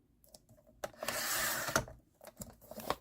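Scissors slice through a paper calendar page, trimming off its bottom part in a soft, close rasping cut, with light paper handling and clicks around it.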